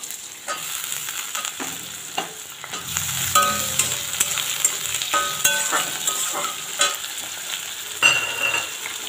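Sliced potatoes go into a pan of browned onions and fry with a steady sizzle, broken by sharp scraping and clacking as a spatula stirs them, close and fairly loud.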